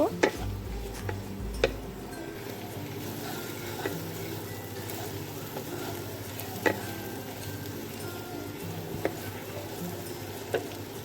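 Grated coconut frying lightly with spice paste in a pan for taro-leaf kochu shak, a steady soft sizzle with occasional sharp clicks of a spoon stirring against the metal, no talking.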